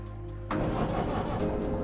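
A diesel locomotive in the Derail Valley train game starts up: a quiet low hum, then an abrupt louder surge of engine rumble that settles into a steady running drone.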